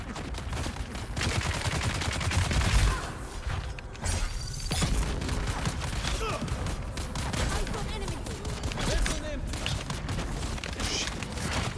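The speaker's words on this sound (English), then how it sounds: "They're all shooting me." Gunfire in the video game Dune: Awakening, with dense rapid bursts and volleys alongside mechanical clanks and creaks, loud and nearly continuous, while a player talks over it.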